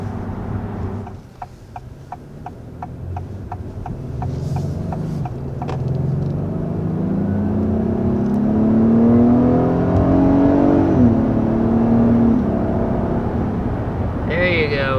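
A 2022 Acura MDX Advance heard from the interior while driving and accelerating, a steady road rumble with the engine note rising in pitch as it speeds up, under a voice talking throughout.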